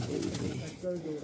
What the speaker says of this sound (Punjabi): ਕਬੂਤਰ ਹੀ ਕਬੂਤਰ ਕਬੂਤਰ